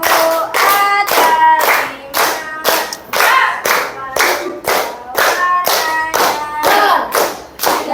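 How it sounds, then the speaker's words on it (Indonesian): Hands clap in a steady beat along to the children's song "Balonku", each clap sharp and close, while voices sing the melody between and over the claps. "Tepuk tangan ya everyone."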